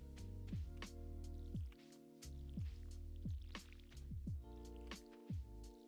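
A watering can pours onto crops in Stardew Valley, producing repeated squishy drips and splashes in a steady rhythm over soft background music, fairly quiet and up close.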